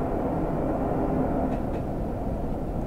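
Steady low diesel drone and rumble from a Class 101 diesel multiple unit running along the line in Train Sim 2021, even and continuous, with no speech.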